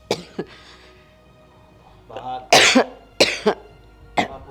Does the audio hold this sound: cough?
yes